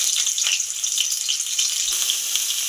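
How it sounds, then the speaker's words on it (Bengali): Potato and papaya pieces sizzle and crackle in hot oil in a wok, a steady close frying hiss with brief spits and no talk over it. "আমি এবার আলু আর পেঁপেটা আগে ভেজে নেব।"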